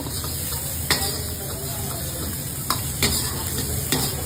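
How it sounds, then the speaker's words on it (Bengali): Chopped ginger, garlic and green chilli sautéing in a hot pan with a constant sizzle, broken by a few sharp clinks and scrapes of a spatula stirring against the metal, close and steady. "আর অ্যাড করবো জিঞ্জার গার্লিক চপ আর কাঁচা লঙ্কা। হালকা সতে করে নেব।"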